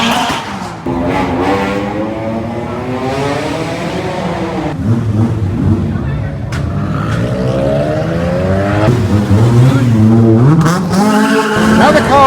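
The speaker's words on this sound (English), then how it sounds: "they're going to head down that tunnel, sounding their engine and heading for daylight" Cars at a crowded underground car meet beneath a railway station in Thailand rev their engines in an enclosed tunnel, loud rising and falling engine notes echoing, with tyre squeal and overlapping vehicles passing close by.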